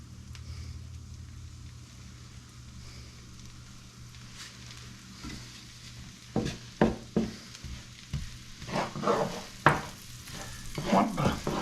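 Peppers and onions fry in melted butter in a pan with a steady low sizzle. From about six seconds in, louder stirring scrapes and clatters join it in irregular bursts, close and fairly quiet overall.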